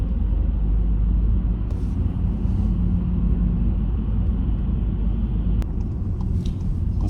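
A car driving along the road to the office gives a steady, close engine and tyre rumble that runs unbroken through the whole stretch, with no talking.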